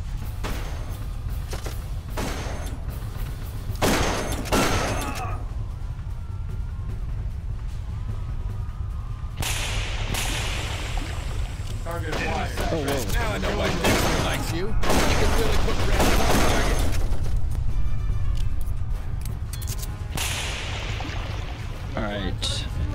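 Gunfire in the shooter game Darkest of Days, set in Pompeii in 79 A.D., with bursts of shots and thumps recurring over a steady low rumble, loud and close, and a voice talking at times.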